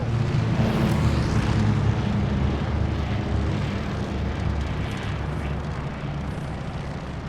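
Airplane engine in Call of Duty Vanguard during the Battle of Midway: a continuous heavy aircraft roar, loudest at first and easing slightly, with booming rumbles underneath.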